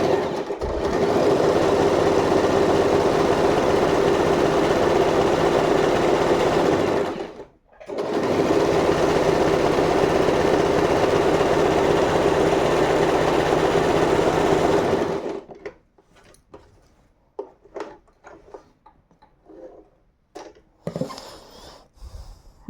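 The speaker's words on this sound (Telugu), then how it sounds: "జిగ్జాగ్ స్టిచ్ ఎలా వస్తుందో చూడండి." A Usha sewing machine sews a zigzag stitch in a loud, steady whir that pauses briefly once, runs again, then stops, followed by faint handling clicks.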